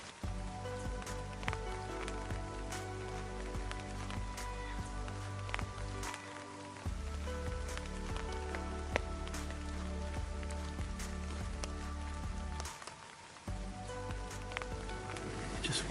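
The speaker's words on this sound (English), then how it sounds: "5 hours of rain" Steady rain pours down during a deer hunt in the woods in rut week, a dense, continuous patter close by with scattered louder drops hitting nearby surfaces throughout.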